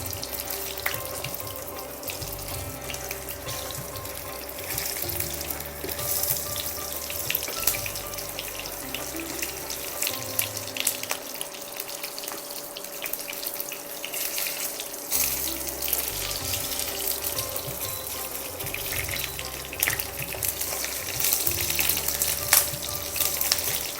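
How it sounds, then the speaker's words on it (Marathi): Sliced onion frying in a pan for chicken drumsticks, a continuous hissing sizzle with scattered crackles that carries on steadily and closely throughout, with no talk. "जरा सांभाळून तो फ्राय करायला पाहिजे तो तडतडतो"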